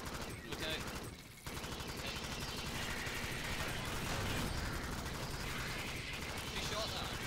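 Rapid automatic gunfire from the Alien Swarm video game rattles on continuously and loudly through the whole stretch, dense and mechanical, with a brief dip near the start.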